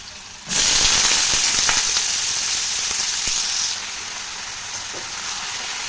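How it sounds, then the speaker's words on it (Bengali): Small-cut potato pieces hit hot white oil in a wok with a sudden loud sizzle that settles into a steady, bright frying hiss, a few faint utensil clicks mixed in; no one speaks. "তো আলুটা একটু ভাজা ভাজা করে নেব।"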